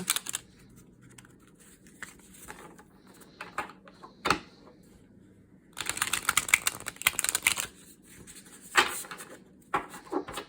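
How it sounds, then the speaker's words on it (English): Crisp bursts of tarot cards being riffle shuffled, a few short ripples early then a longer dense flutter midway and more near the end, close and fairly quiet. "these are starting to rifle shuffle"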